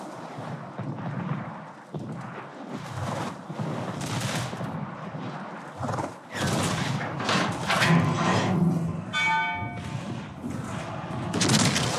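Heavy naval gunfire from the battleship Maine in World of Warships, a series of deep booming salvos and thuds rolling over one another under continuous battle noise, with no talk.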